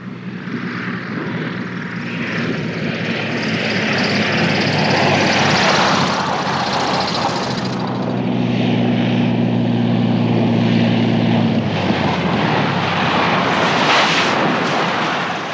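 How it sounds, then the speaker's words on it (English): A propeller airplane comes in to land, its steady engine drone loud and sustained throughout, with a low tonal hum growing prominent midway before easing off. "Plane's coming in for a landing."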